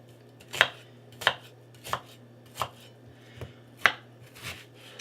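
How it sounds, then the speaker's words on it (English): A knife chops through an onion on a cutting board while chili is being prepared. There are six sharp, evenly spaced cuts over a low steady kitchen hum, with no voices. "So slice up your onion,"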